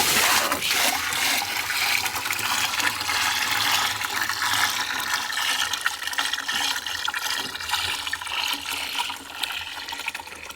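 Liquid gushes and splashes steadily from a tank while being mixed for a fall food plot, a loud continuous pour with spattering spills throughout and no talk.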